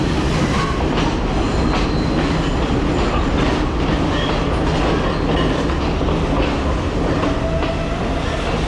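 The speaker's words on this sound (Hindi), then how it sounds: "इधर से हमारी ट्रेन एंटर हो रही है और सामने से सिस्टर ट्रेन आ रही है।" A train pulls into Nanu Oya station in Sri Lanka while a second train crosses from the opposite direction, giving loud, steady rumbling with rhythmic clickety-clack of wheels and faint squeal, close by and without talk.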